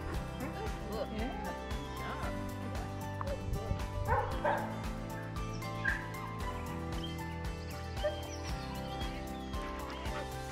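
During dog training with several other dogs nearby, barks and small yips break out repeatedly over a steady bed of background music or noise, moderately loud and fairly close throughout.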